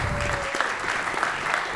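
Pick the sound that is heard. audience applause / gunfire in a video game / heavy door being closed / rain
audience applause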